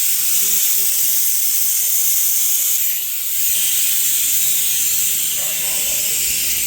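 Steady loud hiss of steam from chickpeas boiling in a pot on a kitchen stove, continuous throughout with faint background sounds underneath.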